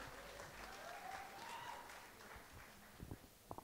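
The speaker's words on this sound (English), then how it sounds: "let's give him a big round of applause" Faint, distant applause from an audience at a college debate prize distribution, a soft continuous patter with a few closer claps near the end.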